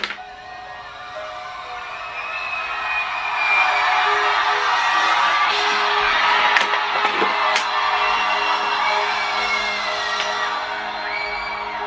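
Large festival crowd at a Machine Gun Kelly headline show in the Czech Republic, whooping, yelling and cheering continuously, swelling louder midway with scattered shouts over a dense roar.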